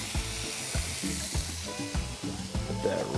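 Steaks sizzle on a grill, a loud close crackle with rhythmic low thuds and scraping running under it throughout.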